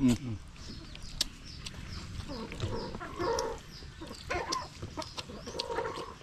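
Chickens cluck and squawk nearby, with short vocal bursts scattered across a noisy outdoor scene beside a canal, while people talk over them.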